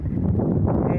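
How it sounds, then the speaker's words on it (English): Steady low wind rumble buffeting the microphone on a mountain hike on Mount Kenya, continuous and fairly loud for the full second with no other distinct sounds. "It's windy."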